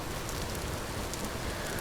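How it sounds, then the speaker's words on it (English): Rain patters densely and evenly on the ground in a survival crafting game, a constant soft hiss with no pauses. "I wish I could turn down the rain."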